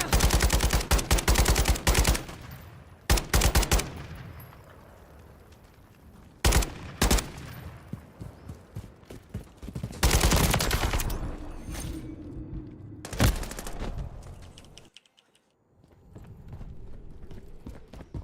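Gunfire in a team deathmatch video game comes in loud rapid bursts separated by quieter stretches of background noise, with no voices over the shots.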